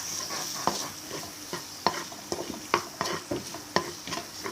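Curry paste and a little fish sauce stirred in a pan for a stir-fry with sweet bamboo shoots, a spoon clacking and scraping in repeated strokes over a light sizzle, close by with no talking.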